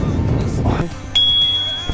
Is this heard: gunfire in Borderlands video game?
no